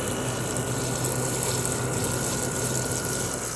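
LG window air conditioner with a GMCC rotary compressor, heard from outside, running as a steady dense whoosh of fan air with a low constant hum and no change throughout.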